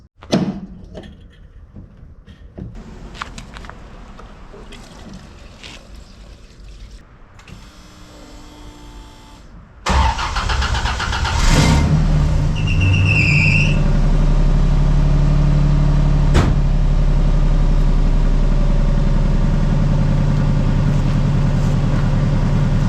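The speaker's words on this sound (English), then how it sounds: "Time to start the electric fuel pump and see if there's any leaks." A Land Rover sits as its electric fuel pump clicks and whirs alongside scattered workshop knocks. After about ten seconds the engine starts and settles into a loud, steady idle that runs to the end.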